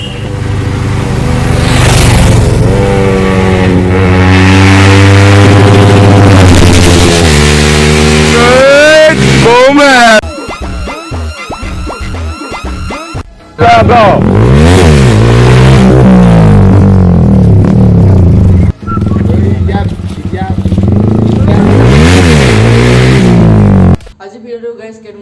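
A Yamaha R15M sport motorcycle is revved hard up close, its loud engine note repeatedly climbing and falling through rising pitch sweeps with brief pauses, and a voice speaks once.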